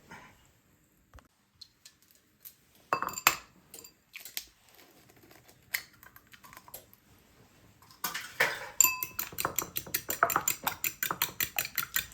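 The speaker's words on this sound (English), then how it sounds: "Now I'm going to crack an egg and mix it up" Egg cracked and beaten into cooled macaroni for homemade mac and cheese: sparse soft taps and clinks at first, then a steady run of quick, close scraping clicks of a utensil stirring against a bowl.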